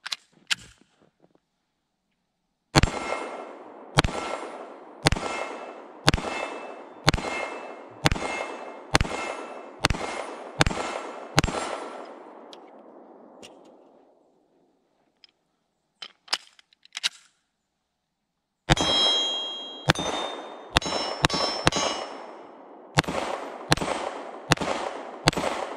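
A Springfield Armory Echelon pistol fitted with a Holosun 507C fires a string of evenly spaced, sharp shots, each followed by a ringing clang from a steel target. A pause follows, then a faster burst of shots and hits.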